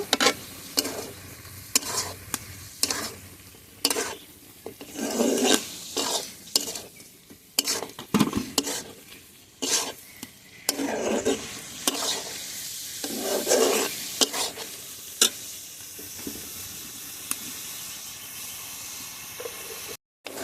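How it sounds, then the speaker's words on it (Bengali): Meat being stir-fried in a pan with ground coriander, cumin and dried chilli powder: repeated scraping stirring strokes over a steady sizzle, close and fairly loud, with no talking. "মশলার সঙ্গে মাংসটা খুব ভালোভাবে কষিয়ে নেব।"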